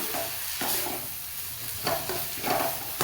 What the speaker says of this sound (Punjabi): ਆਪਾਂ 2-3 ਮਿੰਟ ਦੀ ਚੰਗੀ ਤਰ੍ਹਾਂ ਇਹਨੂੰ ਭੁੰਨ ਲੈਣਾ